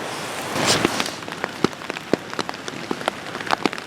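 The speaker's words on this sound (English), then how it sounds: "It's raining." Rain patters steadily on a taut tent nearby, with a brief heavier gust early on and sharp individual drops ticking irregularly throughout.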